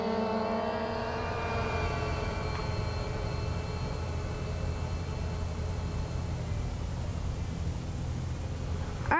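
Quadcopter drone rotors spinning up and holding a hover, a steady loud whirring drone with rising tones at the start, then a constant airy hum nearby.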